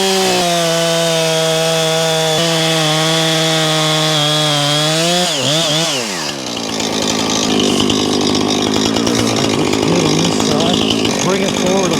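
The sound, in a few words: plunge cut into a tree trunk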